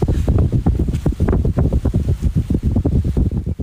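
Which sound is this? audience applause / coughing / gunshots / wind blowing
wind blowing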